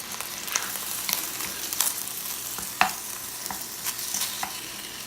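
Ground beef, partly frozen in the middle, frying in a pan over medium-high heat, with a steady close sizzle broken by scraping stirs and a sharper clack near the middle; no talking.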